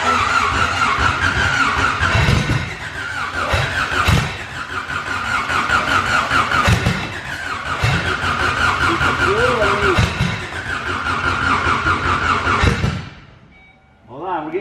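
An all-wheel-drive Honda CRX with a Prelude engine firing for the first time: a loud, rough, lumpy running engine that revs and pops for about thirteen seconds, then cuts out abruptly and briefly restarts.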